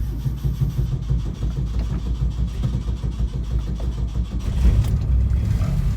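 A 1971 Saab 95 station wagon cranks on a cold start, its starter whirring rhythmically before the engine catches around the fifth second and settles into a louder, steady idle, heard close by.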